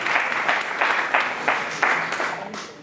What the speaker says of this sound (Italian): Applauso, la prima poesia.